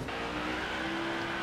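A NASCAR race car in NASCAR Heat 5 spins out on the track, its engine droning steadily with a tonal whine and tire noise, loud and continuous with no talk.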